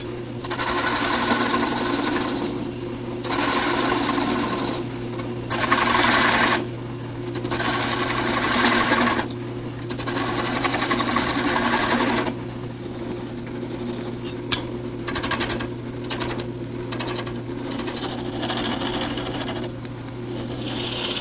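Wood lathe turning a piece with a gouge for an outdoor planter, a steady whirring drone with a constant hum and scraping, cutting passes that rise and fall in bursts, close and loud throughout.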